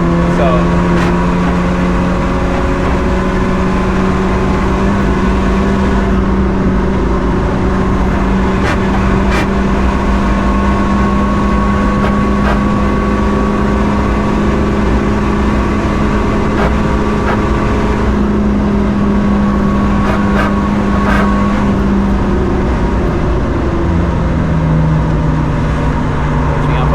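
A Seat Leon Cupra engine drones loudly and continuously as the car climbs uphill on the Nürburgring with its check engine light on, a steady sustained note over road and wind noise, with a voice talking over it.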